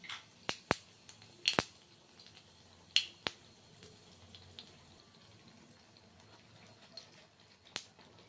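Black cumin (nigella) seeds hit hot oil for a Bengali bean-and-mustard dish, producing sparse, sharp pops and crackles, a few clustered early and then scattered singly, over a quiet background.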